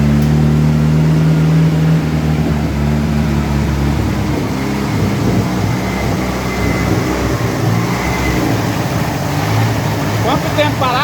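Chevrolet Opala engine idling loud and close, its low rumble filling the whole stretch, with a talking voice on top early on and faint talk later.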